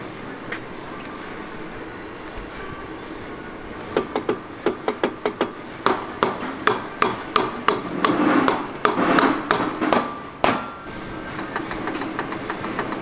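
Differential ring gear on a Dynatrac ProRock 44 front axle for a Jeep Wrangler JL being rocked back and forth to check backlash, giving a run of sharp metallic clicks and knocks that start sparse, then come quickly and close, with no talking.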